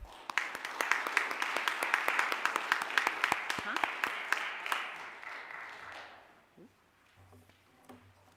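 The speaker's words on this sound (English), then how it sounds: "So if we could give everybody just a final round of applause" A church congregation applauds at the end of a worship service meeting, a crowd of steady, dense clapping that fades out after several seconds into quiet room tone.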